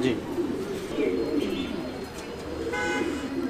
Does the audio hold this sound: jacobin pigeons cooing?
yes